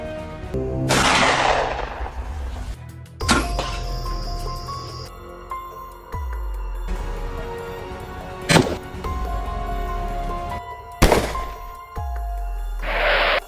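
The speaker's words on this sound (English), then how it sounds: "Waiting for the right second, the hunter squeezed the trigger." Several loud, sharp hunting rifle shots aimed at wild boars foraging in farmland, each a sudden broadband crack that decays into ringing echoes, spaced a few seconds apart against a steady low background rumble.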